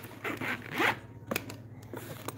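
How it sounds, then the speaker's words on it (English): A pocket on a leather-trimmed JFlowers Trojan 3x4 cue case being zipped closed, with several quick rasping zipper pulls up close, then a few small clicks and rustles. "So let me just zip up this pocket here."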